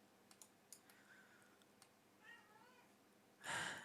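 A pet cat meows for food in short, faint cries from a distance in a quiet room, with scattered keyboard clicks, and a brief louder noise at the end.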